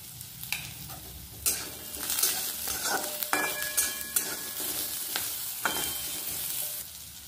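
Vegetables sizzle in a hot pan as a spoon stirs and scrapes them in irregular bursts, close and fairly quiet, with no voices.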